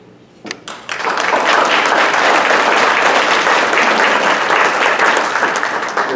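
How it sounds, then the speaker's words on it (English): Attendees at a West Virginia Democratic executive committee election meeting clap: a few scattered claps first, then loud, sustained applause from a roomful of people that holds steady to the end. "We're apologizing for clapping and making the sound go out again"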